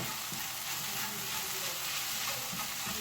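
Homemade kebab meat sizzles steadily in a frying pan, a continuous bright frying hiss held close and even throughout with no one talking.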